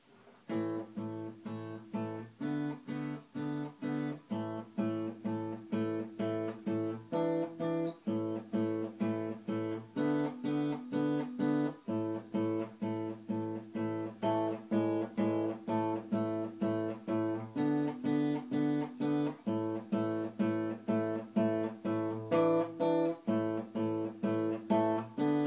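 An acoustic guitar plays a song's riff as a lesson demonstration, a steady picked pattern of repeated notes, close and clear, carrying on alone without talk for about twenty-five seconds.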